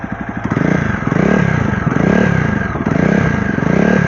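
A Jawa Perak motorcycle with a short bobber-style exhaust revs loudly close by, its deep throbbing exhaust note rising and falling in repeated surges.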